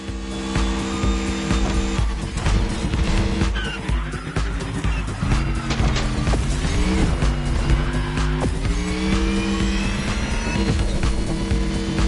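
A Mercedes EQ Silver Arrow, a fully electric tribute car to the Silver Arrows, driven hard in a racing game, with a steady engine-like whine, squealing tires and skids running continuously and fairly loud over a music bed.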